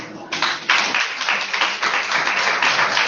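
A church congregation at a Sunday service breaks into applause, dense clapping that starts after a brief pause and swells into a steady, fairly loud crowd sound.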